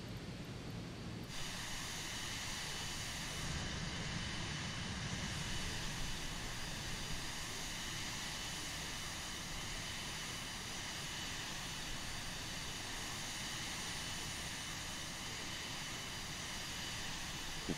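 A Cirrus Vision Jet SF50 outside, with a steady broadband jet engine roar and high whine that stays constant and loud throughout, no voices.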